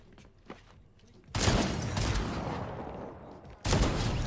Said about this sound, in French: la violence de ce pompe les gars